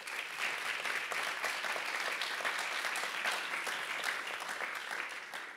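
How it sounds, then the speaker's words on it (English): Steady audience applause fills a business summit hall for several seconds, a dense even clatter of many hands clapping at constant loudness with no talk over it. "Please give him a round of applause."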